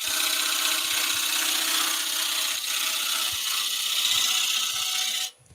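A skew chisel makes a side cut on a wood-turning bowl, giving a steady, continuous scraping shear against the spinning wood that holds at an even level for about five seconds before cutting off abruptly.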